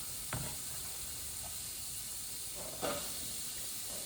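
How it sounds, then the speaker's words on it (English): A brief sharp hiss flares as onions hit a hot pan, followed by a steady low sizzle and a second louder burst of frying. "Instant sizzle."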